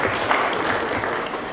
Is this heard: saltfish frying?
no